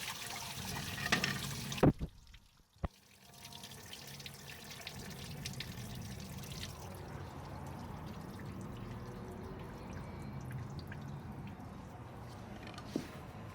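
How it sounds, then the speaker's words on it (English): Water gushes out after a couple of sharp knocks, then settles into a steady, moderate trickling and splashing that continues without pause. "That's all the water that's coming out."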